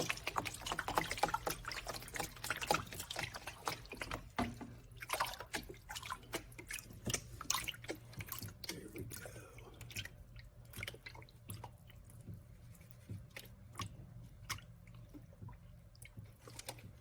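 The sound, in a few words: gold panning, water swirling in pan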